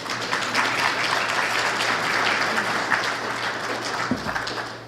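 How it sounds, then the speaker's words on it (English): Steady, dense clapping from a conference keynote audience, a sustained wash of applause that holds evenly and tails off at the close. "So a little bit of clapping for Jay."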